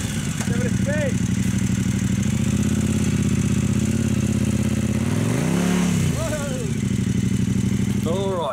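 A motorcycle engine runs loud and close throughout, rising and falling as the throttle is blipped, with a sharp rev in the middle and voices talking briefly over it.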